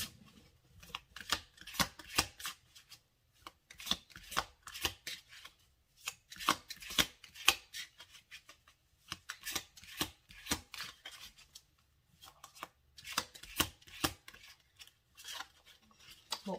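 Oracle cards being shuffled by hand in bursts of soft riffling and flicking, irregular clusters separated by brief pauses, close and fairly quiet with no voices.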